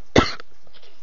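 One sharp, loud cough with a throaty burst, followed by a brief smaller catch and faint trailing breathing against a quiet background hum.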